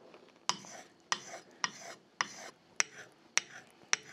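Sashimi knife (hoecal) being sharpened on a whetstone: seven evenly spaced gritty rasping strokes, each starting with a sharp scrape and fading, close and fairly quiet.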